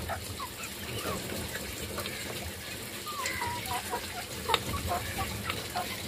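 Backyard chickens clucking in a pen while pecking at black soldier fly larvae, several birds making short scattered clucks and calls close by, with a faint watery background.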